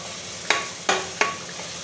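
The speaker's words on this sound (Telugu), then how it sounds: "చూడండి ఉల్లిపాయలు ఇలా వేగాలండి" Onions frying in a pan with ginger-garlic paste while cooking fish curry, a steady hiss of sizzling with three sharp stirring scrapes of a spoon, close and clear.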